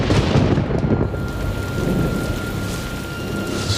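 Heavy rain pours down in a forest with a deep rolling rumble of thunder, a loud continuous wash close by with no voices.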